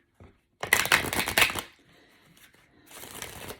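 A deck of tarot cards is shuffled briskly in a dense burst of riffling and slapping, followed by quieter handling and a second, softer shuffle.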